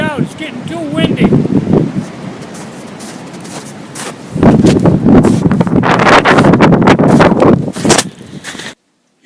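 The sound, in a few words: strong wind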